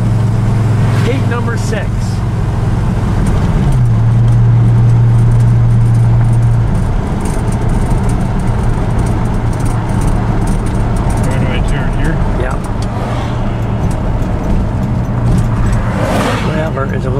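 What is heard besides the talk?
Chrysler 300J car driving, interior ride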